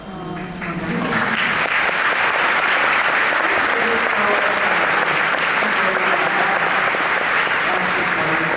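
Dense, steady audience applause fills a large hall at a Disney fan event panel, rising quickly after the first second and holding loud and continuous to the end with no speech over it.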